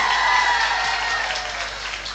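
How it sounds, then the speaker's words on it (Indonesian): An audience at an Indonesian religious talk by KH Kholil Yasin claps for the women present, with steady, dense applause and crowd noise lasting about two seconds. "banyak tepuk tangan untuk ibu-ibu yang hadir"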